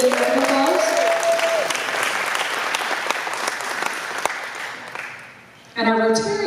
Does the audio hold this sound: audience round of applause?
yes